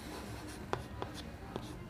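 Writing on a board during a chemistry lecture on the Prins reaction mechanism, a few faint, quick strokes and taps spaced out over a quiet room hum.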